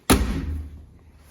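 A single solid thud as the door of a 1936 Ford Model 68 DeLuxe Phaeton shuts close by, a sharp low slam that quickly dies away into quiet.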